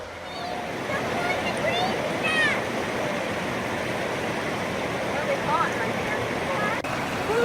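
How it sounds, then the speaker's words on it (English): Broad steady rush of flowing water at the Boiling River hot springs near Gardiner, Montana, constant and close throughout with faint higher chirps scattered over it. "we made it to Boiling River, all the way down to the hot springs"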